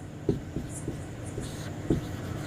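Chalk or marker strokes tap and scrape on a classroom board during a chemistry lesson, a few distinct short strokes spaced through the moment, close, with no speech over them.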